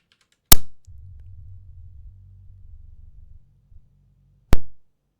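A chaotic filter drum synth turns unstable, with a sharp loud burst followed by a low, steady rumbling drone for about three seconds, then a second abrupt loud crack.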